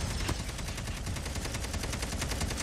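Rapid, evenly spaced automatic KN44 fire in Call of Duty, a dense machine-gun rattle sustained for the whole few seconds with no talk over it.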